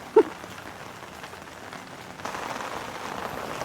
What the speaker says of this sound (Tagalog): lagi na lang umuulan. Hindi na uminto.